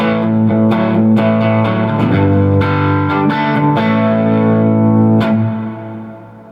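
An electric guitar played through a JHS Morning Glory overdrive pedal into a Jupiter 12LC 12-inch speaker rings out in loud, sustained, mildly distorted chords with picked accents, fading at the end.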